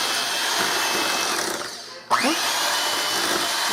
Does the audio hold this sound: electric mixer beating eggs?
yes